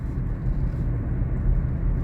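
Kia car engine under hard throttle, a steady low rumble from inside the vehicle that holds close and even throughout without clear rise in pitch.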